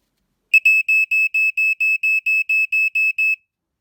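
Uncovered smoke alarm from a 2019 collection sounding close and loud: a rapid run of about twelve identical high-pitched electronic beeps in an even pulse, then silence.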